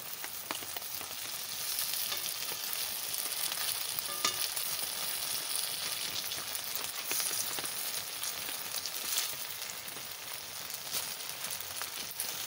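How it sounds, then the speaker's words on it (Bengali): Banana flower chops sizzle steadily in hot oil, an even crackling hiss with small pops throughout, heard alone without talk. "এরম ভাজা দিচ্ছি, এক সাইড একদম পুরো একদম লাল হয়ে যাচ্ছে।"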